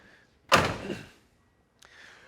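The passenger door of a 1979 Pontiac Trans Am swings shut with a single solid thunk, close and clear, followed by quiet and a faint click.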